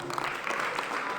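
Applause from a class of seventh-grade students during a music training session, a short dense burst of hand clapping heard alone.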